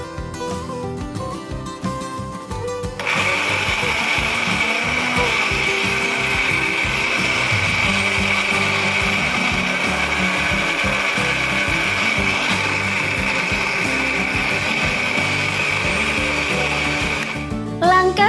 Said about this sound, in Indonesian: Lalu di blender hingga halus dan tercampur rata ya bun.